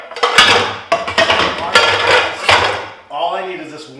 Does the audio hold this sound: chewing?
no